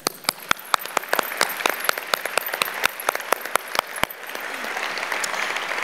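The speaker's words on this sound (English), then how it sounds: "you are all winners and deserve a round of applause." An audience of honorees and guests claps at a philanthropy awards show. It starts with sparse, distinct claps that build quickly into full, sustained applause filling a large room.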